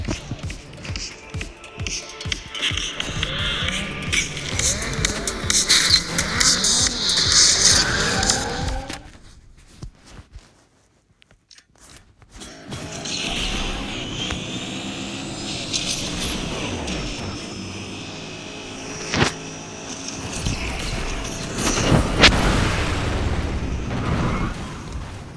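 A Cadillac races in the Asphalt 8 mobile racing game, with loud roaring engines, bursts of impact and crash noise, a brief near-silent break midway, then sustained racing noise with sharp hits.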